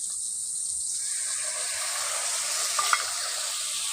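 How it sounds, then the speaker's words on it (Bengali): Cashew paste stirred into spices frying in oil for a prawn and pointed gourd dish, giving a loud, steady sizzle with soft scraping from the stirring spoon. "কাজু বাদাম বাটাটা দিয়ে ভালো করে মিশিয়ে নিচ্ছি"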